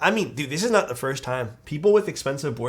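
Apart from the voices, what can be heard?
No everyday noise stands out behind the speech.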